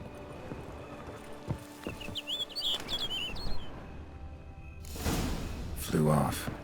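Brief, high chirps of a bird in The Witcher 3 flutter above game ambience, alongside hoof clops and a few soft thuds, with a louder rushing burst toward the end.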